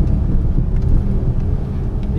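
A Tata Nano drives along a coastal road, its small engine giving a continuous low drone mixed with road rumble and gusts of wind noise.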